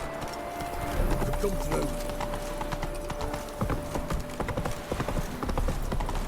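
Roach, the horse in The Witcher 3, gallops with a steady, rapid clip-clop of hooves that runs through the whole clip, while a voice speaks briefly over it.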